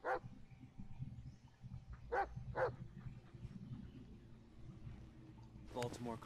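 Bullet the dog in the Blair Witch game gives short whimpering barks, a few brief yelps close by, with a rising whine near the end over a low ambient rumble and faint voice.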